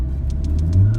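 A Stage 2 Volkswagen Golf GTD 7 diesel with 240 hp and a DSG gearbox accelerating hard in second gear, a loud close engine drone rising in pitch over a brief second with faint clicks.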